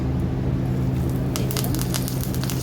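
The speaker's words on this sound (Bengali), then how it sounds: "এবার আমি একে একে সমস্ত পাথুরিগুলো ভালো করে অল্প আঁচে আমি ভেজে নেব" Leaf-wrapped paneer paturi fries in oil in a pan over low heat, a steady sizzle that turns into close, scattered crackling partway through.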